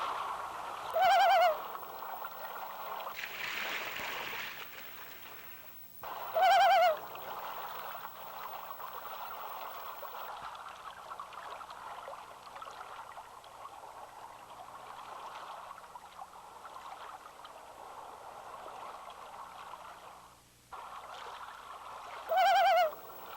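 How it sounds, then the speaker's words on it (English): Haunting loon calls ring out three times, spaced far apart over a steady wash of flowing water, each a wavering tonal cry that stands out clearly from the quiet background. "The beauty of the loon, with its magnificent displays and its haunting sounds,"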